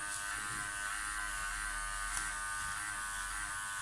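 A Powertec TR 1700 electric hair clipper runs close up during a home haircut, giving a continuous high buzzing whine with a steady hum underneath, constant in level throughout and without talk.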